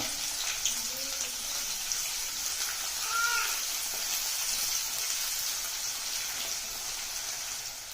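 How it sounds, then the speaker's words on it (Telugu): Onions sizzle in hot tempering oil on a medium flame, a steady bright crackling hiss that runs throughout at moderate volume, with a few faint background tones over it. "తాలింపు వేగింది ఇప్పుడు ఈ ఉల్లిపాయలు వేసి కొంచెం బాగా వేగనిద్దాం"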